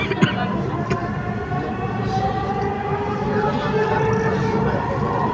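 Dhaka metro train running between stations, its continuous hum and rolling rumble carrying steady whining motor tones that hold and slightly shift throughout, with no clear speech.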